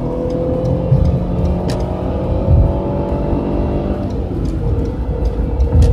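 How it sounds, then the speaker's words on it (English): A car engine drones loudly and steadily from start to finish, its pitch shifting slightly as it revs, with road rumble underneath. "Oh, I love that engine sound."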